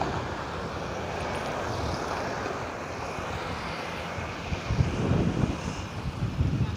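Strong wind roars against a vehicle driving near San Simon, Pampanga, a steady broadband rush that swells and gusts louder toward the end, with no talk over it.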